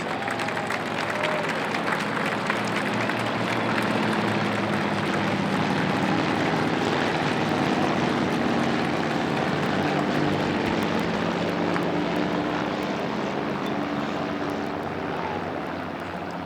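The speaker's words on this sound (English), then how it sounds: "We have a Fairchild PT-6 trainer. We happen to have a North American Navion and also a Cessna 172. Here they are, ladies and gentlemen, your formation flight." Propeller planes in formation flight, a Fairchild PT-6 trainer, a North American Navion and a Cessna 172, pass over a county fair memorial ceremony; a steady, loud engine drone with layered tones holds throughout.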